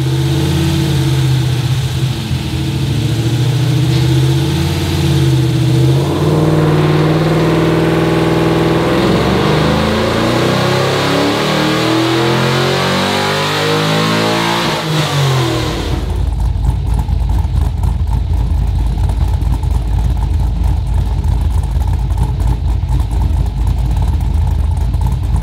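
An LS1 V8 fitted with a Crow Cams 1249 camshaft on a dyno, first idling with a lumpy choppy note, then revving up in a long rising sweep around fifteen seconds before dropping into loud, rough roaring.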